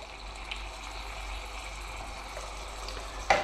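Water mixed with a spoonful of homemade vegetable paste is poured into a Bosch Cookit cooking machine, making a steady soft gushing trickle close by that ends in a brief louder splash.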